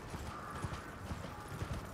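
Summoned horse galloping in the video game Elden Ring: soft, rhythmic hoofbeats thud in quick repeating pairs under a low, steady game ambience, faint and distant-sounding.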